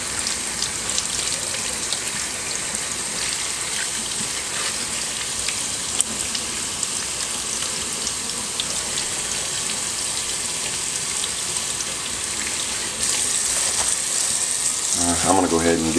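Tap water runs steadily while tie-dyed shirts are rinsed under it in a sink, a loud continuous splashing hiss that shifts slightly near the end, with a voice speaking over it.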